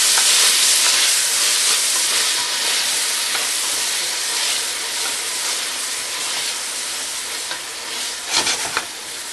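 Garlic and onion frying in a pan for tortilla soup give off a steady, loud sizzle with a broad hiss, while stirring scrapes and clinks through it and a few louder pops come near the end.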